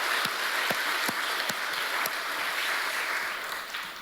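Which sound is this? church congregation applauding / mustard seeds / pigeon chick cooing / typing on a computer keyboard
church congregation applauding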